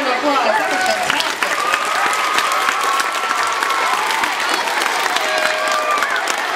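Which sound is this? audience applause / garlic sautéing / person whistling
audience applause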